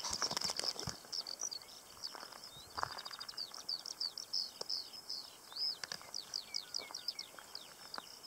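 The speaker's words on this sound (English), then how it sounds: "sound of a lark singing" A lark singing along the Otago Central Rail Trail, a rapid, continuous stream of high trilling and chirping notes from a single bird at moderate distance, with no talking.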